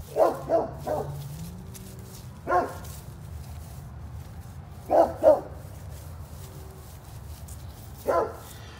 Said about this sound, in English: There's a neighbor dog barking, sorry.